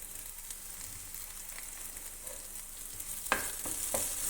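Tomatoes and coriander powder sauté in a pan, giving a steady soft sizzle with a few sharper scrapes of a spoon toward the end; no talking.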